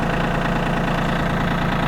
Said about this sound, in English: Good little tractor right here.